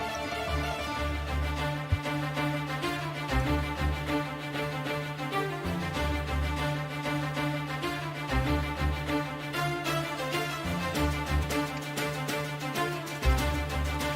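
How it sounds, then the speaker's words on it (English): Electronic dance music rendition of the Port of Adia theme from Turok 2 on the Nintendo 64, with a steady pumping beat, sustained synth layers and a rich bass line playing continuously and loudly with no voices. "interpretation of Turok 2 Port of Adia theme,"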